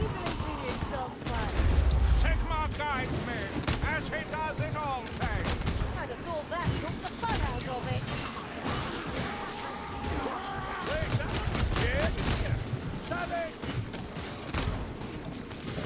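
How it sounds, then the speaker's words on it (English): Rapid pistol fire from a brace of pistols in a video game battle, sharp repeated shots layered over busy combat noise and a talking voice throughout. "I'll switch to my brace of pistols then"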